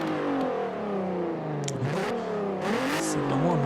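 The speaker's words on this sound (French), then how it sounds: "c'est un moteur qui est très rageur, avec une zone rouge qui commence à 6500 tours minute" In-game Volkswagen Golf 3 VR6 engine from Forza Horizon 4 revving and accelerating through rising and falling pitch sweeps, a steady mid-pitched drone with no talking over it.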